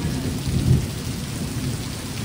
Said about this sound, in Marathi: बरोबर पाऊस आलाय बघ